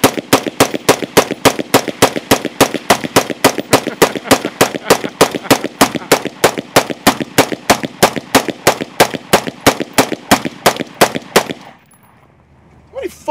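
Sustained automatic gunfire from a rifle fed by a 100-round magazine, a rapid, steady stream of loud shots for about eleven seconds that stops abruptly, leaving near silence.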